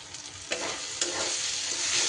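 Chicken with green jackfruit being sautéed and stirred in a pan, a steady sizzle broken by a couple of distinct scraping stirs, close and alone without speech.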